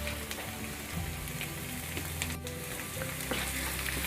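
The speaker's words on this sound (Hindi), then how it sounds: "अब इसको हम खुले में यानी कि बिना लीड के 1-2 मिनट तक ऐसे ही भूनेंगे अच्छे से" Aloo palak, potato and spinach sabzi, sautéing uncovered in an open pan, a dense continuous sizzle and crackle with light stirring, steady and close throughout, a brief dip midway, no speech.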